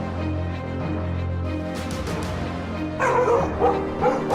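Several dogs of a pack bark, yip and whimper close by, their overlapping calls growing denser and louder toward the end.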